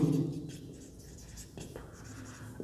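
Chalk or marker writing on a classroom board during a Class 9 geometry lesson on lines and angles, with soft scratchy strokes and short taps spread over a few seconds under a faint background hum.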